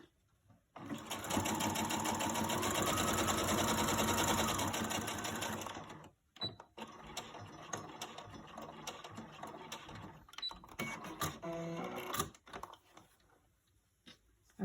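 A sewing machine runs in a steady, loud burst for about five seconds as it stitches fabric across, followed by clicks, rustling and handling of the cloth nearby.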